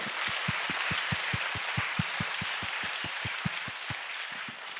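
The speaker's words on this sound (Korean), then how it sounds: "우리 큰 박수로 하나님께 영광 돌리겠습니다." A congregation at a Korean church prayer retreat claps to glorify God, a brisk, even rhythm of claps in unison, roughly five per second, riding over a bed of broader applause at moderate volume.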